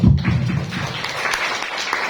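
A short burst of applause from a crowd, dense and steady, fading slightly toward the end.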